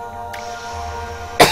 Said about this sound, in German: ich muss mich ab und zu mal so räuspern